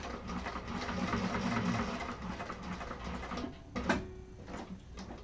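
A sewing machine runs steadily while topstitching across the top of a Blanche Bowler bag, its motor whirring at an even mid-pitched hum with a brief clunk near the end.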